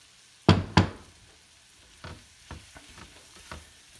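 Hot dogs fry at medium heat in a pan while flour is stirred in to start a gravy. Two loud scraping knocks open the sequence, followed by quieter, evenly spaced stirring taps over a faint sizzle.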